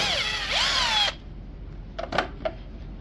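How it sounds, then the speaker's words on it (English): Power tool whirring on lawn mower bolts, a loud rising and falling whine for about a second, then quieter clicks and rattles as the bolt comes free. "you can take them off with the impact"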